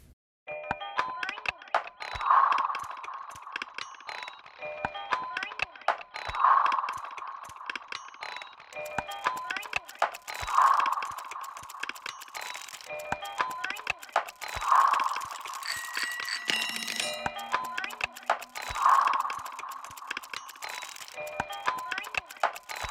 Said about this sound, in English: what would it sound like if I actually used the sound of toys,